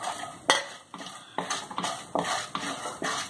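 Black gram lentils frying and being stirred in a pan with red chilli for a chutney, giving a series of close scraping, clinking strokes about every half second over a soft sizzle.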